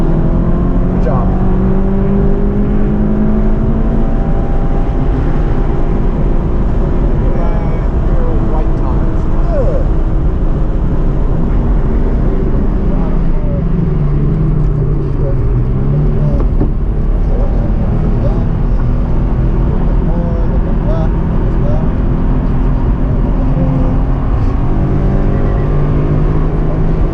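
A race car drives on the Summit Point circuit, its engine droning loud and steady throughout with rising and falling pitch as it accelerates and lifts, close and continuous, with a voice talking over it.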